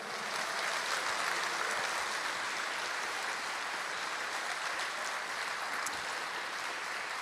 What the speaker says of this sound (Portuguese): aplauda Ele com força, com alegria